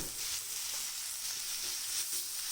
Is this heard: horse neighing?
no